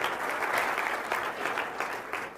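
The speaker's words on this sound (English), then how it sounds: "give yourselves a hand of applause for making it here" An audience at a training session for associates applauds, a dense, close wash of many hands clapping that stays loud throughout and fades only slightly at the end.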